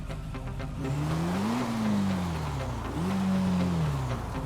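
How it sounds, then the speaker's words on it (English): A motorcycle clutch in the friction zone gives a steady mechanical whine that rises and falls in pitch twice over a low engine rumble, close by with no talking. "It's like a whining noise."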